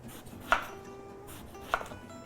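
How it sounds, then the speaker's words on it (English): A knife slices through a washed eggplant on a cutting board, two distinct close cuts with a thud on the board about a second apart, with no talking. "we'll cut the tip off, and then just do little slices"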